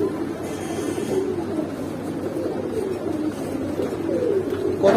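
Pigeons at a pigeon seller's coop coo softly in low, rolling calls repeated several times over a faint hiss, moderately close.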